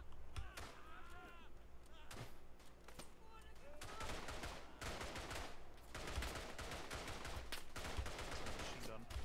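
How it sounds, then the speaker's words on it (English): Rapid bursts of machine gun fire and scattered shots from the World War I shooter game Verdun, loud and continuous through the whole stretch, with players talking over the gunfire. "Machine gun."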